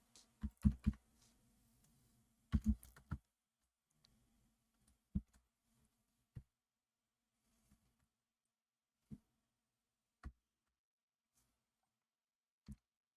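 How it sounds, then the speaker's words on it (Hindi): Someone types an address on a computer keyboard: two quick clusters of clicking keystrokes near the start, then sparse single key taps spread out over a quiet room. "इस कंपनी का एड्रेस क्या है वो यहाँ पर टाइप करेंगे आप"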